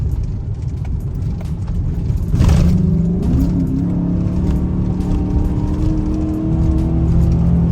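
A truck engine fitted with a Corsa closed box air intake revs hard, a loud close roar that swells sharply partway through and then settles into a strong, steady drone.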